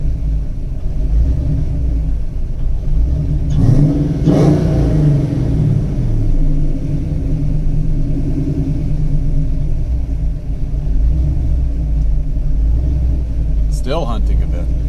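A cammed Ford Foxbody Mustang with a 5.0 V8 idles with a loud, rough, lopey rumble. The idle hunts and rises in a couple of brief swells. Someone talks over it throughout.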